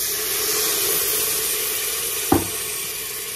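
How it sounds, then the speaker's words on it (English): Steady hiss of beef broth hitting the hot inner pot of an Instant Pot while deglazing during a pot roast, with one brief louder splash or clatter partway through. "then it's going to sizzle and I won't be able to talk"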